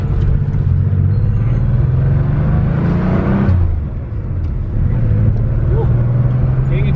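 A 1981 Porsche Super Carrera engine hums and rumbles while driving in first gear, with a rising drone that dips briefly during a shift and then resumes, and someone talks over it.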